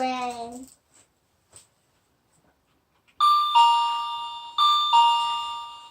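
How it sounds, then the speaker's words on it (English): An indoor doorbell chimes a ding-dong twice in quick succession, clear and loud, after a brief bit of speech and a quiet pause, during a puppet show. "as the doorbell rang"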